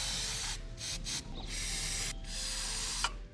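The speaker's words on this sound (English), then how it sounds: "Continue spraying the cleaner on here." Steady hissing spray from an aerosol can of chain cleaner onto a bicycle chain, a few bursts with short pauses between them, close to the microphone with no talking.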